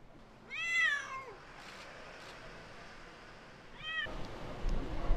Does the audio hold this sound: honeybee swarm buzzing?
no